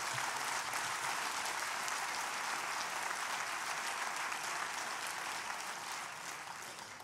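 Sustained applause from a conference audience in a hall, steady and dense throughout, fading slightly toward the end.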